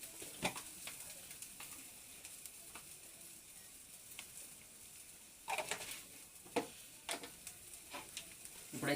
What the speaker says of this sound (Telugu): ఇప్పుడైతే బాగా కలపాలి